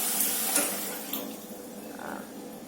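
Rice grains being rinsed by hand in a bowl of water, several swishes and splashes with tap-like running water, close and steady, no talking.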